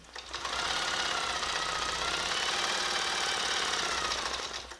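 A longarm quilting machine sews a seam across a quilt-as-you-go piece with a steady, loud mechanical whir and rapid needle chatter that holds evenly for several seconds, with no talking.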